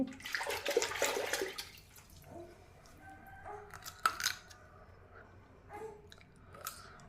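Water runs from a kitchen tap in a short, close splashing burst as a carrot is washed, followed by quiet handling clicks and small knocks.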